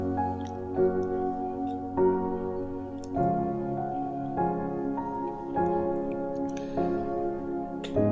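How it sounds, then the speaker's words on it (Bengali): Polao rice is rinsed in water before a beef tehari, producing close, wet swishing and dripping sounds in steady repeated strokes, with no talking. "পোলাওর চালটা ভালো করে ধুয়ে নিচ্ছি।"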